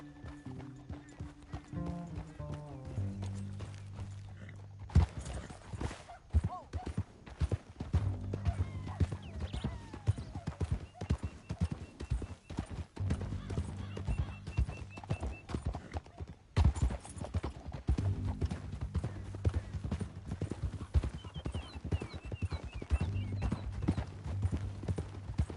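Horse hooves clip-clop and gallop in Red Dead Redemption 2, steady rhythmic beats running nearly throughout over a game music score, with a brief pause midway before the hoofbeats resume.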